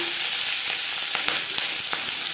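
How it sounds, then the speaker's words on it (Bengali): Onion stalks sizzling loudly in hot mustard oil in a pan, a dense continuous crackle with scattered sharp pops close by. "সর্ষার তেল গরম করে নিয়েছি এবার দিয়ে দেব পেঁয়াজ কলি"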